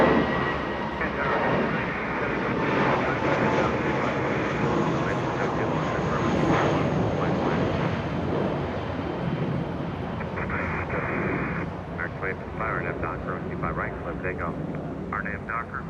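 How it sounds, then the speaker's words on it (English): Airliner lifting off from runway 25 right at Los Angeles International Airport, a steady distant engine roar throughout while a commentator talks over it and air traffic control radio chatter cuts in. "A departure happening right now, lifting off pretty early on a 25 right."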